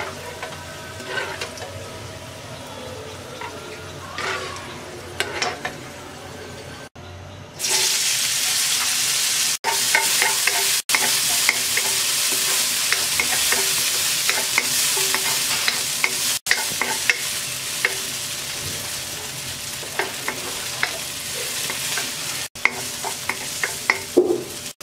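Raisins frying in a pan and stirred for a while, with a continuous close sizzle and repeated scraping strokes, a quieter stretch at the start and occasional sharper clinks, no talk.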